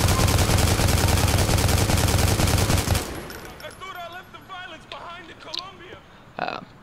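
Rapid automatic gunfire from a police patrol video game roars loud and dense for about three seconds, then cuts off, leaving quieter game sounds with scattered chirps and a brief final burst.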